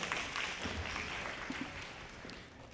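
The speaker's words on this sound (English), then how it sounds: "give a round of applause to who showed up today," Faint, diffuse applause from an audience at a Black business month mixer honoring vendors, a soft wash of clapping that fades gradually toward the end.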